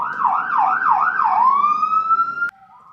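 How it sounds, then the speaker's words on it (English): Fire truck siren passing close by, a loud rapid wail that cycles four times, then holds a rising steady tone before cutting off abruptly. "we have a fire truck going by."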